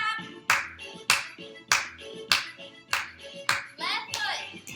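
Hands clap on the beat during a seated chair Zumba Gold marching routine, about eight crisp claps spaced roughly half a second apart, with music playing underneath.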